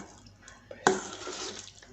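Thick tamarind water, mixed for a Tamil karunai kilangu masiyal, is poured into a bowl in a kitchen: a brief small knock, then a close, soft, continuous splashing pour lasting about a second before tapering off.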